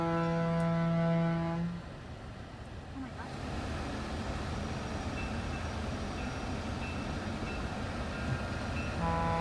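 A heritage railroad train horn blasts loudly at the start, then a steady rumbling roar of the train passing at about 20 miles per hour continues, with the horn returning faintly near the end, in Heber Valley, Utah.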